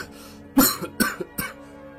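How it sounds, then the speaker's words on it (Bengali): Several harsh coughs from one person, close and fairly loud, in a short uneven burst of three or four hacks with brief pauses between them and no speech. "মনে হচ্ছে তোমার কাশিটা আগের থেকে বেড়ে গেছে"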